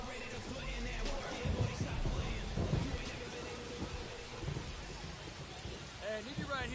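Rain pours steadily in the baseball video game MLB The Show 25 while low thunder rumbles and swells a few times, with faint voice-like sounds mixed in.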